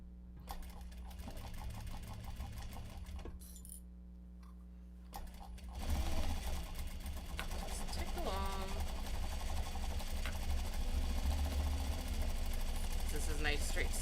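A sewing machine runs fast straight stitching along a channel for elastic on a grime guard, a steady continuous mechanical whir that starts after a brief pause and carries on with faint background speech.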